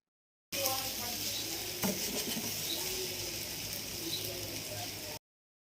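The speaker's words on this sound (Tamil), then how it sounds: "முட்டையை உடச்சி ஊற்றிட்டு அதுக்கு மேலே ஒரு பெப்பர் போட்டு ஒரு தேர்ட்டி செகண்ட்ஸ்க்கு வெயிட் பண்ணிவிட்டு அதை நல்லா சாட்டே பண்ணி எடுத்துக்கோங்க" Egg cracked over leftover chapati and sprinkled with pepper sautés in a pan, giving a steady close sizzle with occasional stirring scrapes throughout.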